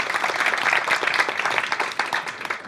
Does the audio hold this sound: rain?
no